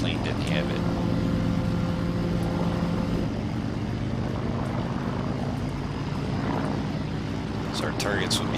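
Ju87 Stuka engine droning steadily during takeoff in Arma 3, a continuous propeller roar that holds at a constant level with faint tonal whine early on.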